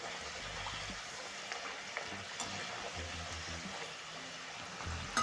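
Sliced potatoes and onions frying in a pan, a faint, continuous soft sizzle with light crackles throughout.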